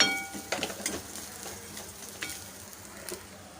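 A ground mixture being stirred and sautéed in a pan: soft sizzling with a few clinks and scrapes of the utensil against the pan near the start, then fading to a quiet, lighter sizzle.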